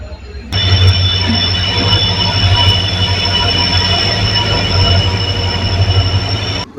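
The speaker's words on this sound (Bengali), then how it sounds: "তো ফাইনালি ট্রেন এসে পড়লো" A train rumbles loudly up close with a sustained high metallic squeal from its wheels, steady and continuous after an abrupt start.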